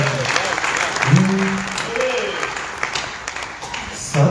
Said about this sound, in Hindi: एक बार छुटपुट ताली बजाओ